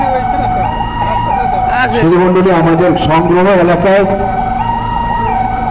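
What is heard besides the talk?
ICU ambulance siren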